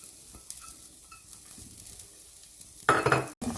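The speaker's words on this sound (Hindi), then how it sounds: "और इसमें हम डाल देते हैं अपने ये गार्लिक डाल देते हैं" Garlic dropped into hot oil for a Chinese garlic spinach stir fry bursts into a loud, bright sizzle near the end, after a quieter stretch of faint stirring and kitchen clatter.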